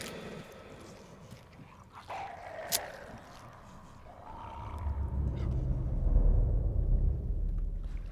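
A dog in the video game Inside arriving with a few faint yelps and whines, followed by a rising low rumble of approaching movement that swells loud toward the end.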